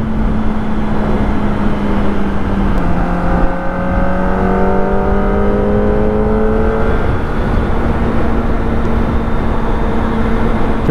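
A Kawasaki ZX25R motorcycle is ridden through busy traffic, its loud steady engine whine rising and shifting in pitch under constant wind rush, with no talking.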